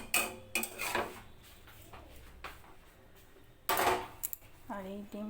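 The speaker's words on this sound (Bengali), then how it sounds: "আর এই ডিমটা নাড়িয়ে দিলাম।" Egg stirred in a pan with a utensil in a home kitchen, a few close metallic scrapes and clinks separated by quiet gaps, with a brief voice near the end.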